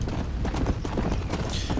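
Horse hooves clip-clop steadily in the Undead Nightmare video game, a quick repeating rhythm of soft thuds under a dense, noisy game soundscape.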